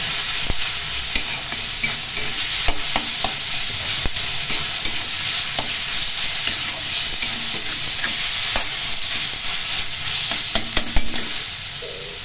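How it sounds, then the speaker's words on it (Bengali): Lentil paste and eggplant fry in a pan with a steady, fairly loud sizzle, broken by frequent scraping clicks of stirring. "এখন খুব ভালো করে ডাল বাটা এবং বেগুন ভেজে নেব।"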